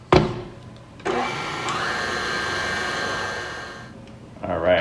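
An electric mixer whirs steadily through tres leches cake batter, starting after a brief clatter, shifting pitch slightly as it runs for several seconds, then winding down before a final clink.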